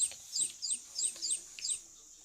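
High, squeaky chirps from a toy chick, sounded by rubbing its silver part, repeat in a quick series of about six rapid tweets, fairly faint, with a little background noise.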